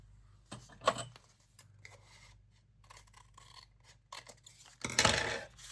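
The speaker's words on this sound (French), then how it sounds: "Et je coupe le bout parce que je préfère que ce soit comme ceci." Scissors cut into a paper envelope, with a few short snips and scraping cuts spread across a quiet background, ending in a louder, longer crunching cut near the end.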